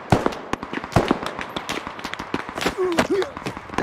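Rapid sharp gunshots from a weapon in a video game, a string of quick popping bursts at an uneven rhythm, with a voice talking over the shots near the end.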